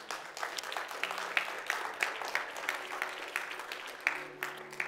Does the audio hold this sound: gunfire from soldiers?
no